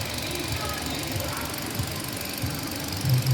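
A Hyundai Accent engine running after spark plug and ignition coil replacement, a steady low idle hum with faint ticking, heard close and continuous without misfires.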